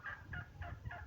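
Turkeys among farm poultry gobble in four quick, rattling bursts close by, with no speech over them.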